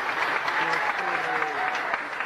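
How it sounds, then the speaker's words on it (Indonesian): Audience applause at an Indonesian comedy dubbing skit, a steady dense wash of clapping running through the whole moment, with voices talking over it. "Tepuk tangan dong."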